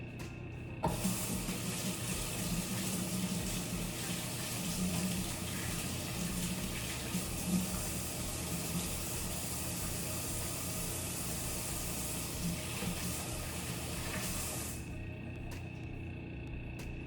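Tap water runs steadily over houseplant roots being rinsed during repotting, a continuous close splashing flow that starts abruptly, holds for about fourteen seconds, then cuts off.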